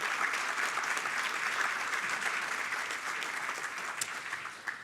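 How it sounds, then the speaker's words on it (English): An audience at a Great Miami Riverway summit applauds elected officials in a steady, dense round of clapping that fills the room for several seconds and eases slightly toward the end. "Please give a round of applause to our elected officials who are with us today."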